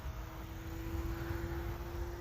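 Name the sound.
Hobbyzone Aeroscout RC plane flying a low pass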